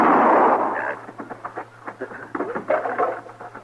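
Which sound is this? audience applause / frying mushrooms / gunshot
gunshot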